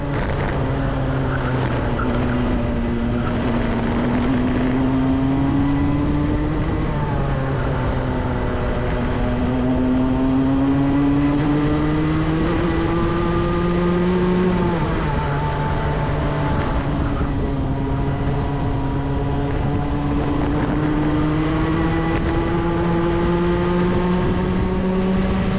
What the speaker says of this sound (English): Sounds like slightly more aggressive braking there. You could hear the engine note change as I locked the wheels.